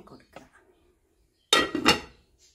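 Lid set over a cooking pot while making chicken chattipathiri: one sharp metallic clatter close by, following a few faint earlier clinks and a stretch of near silence.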